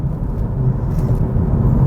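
A steady, low droning hum from the CVT transmission of a moving 2020 Honda Civic Hatchback fills the cabin, constant and fairly loud with no talking.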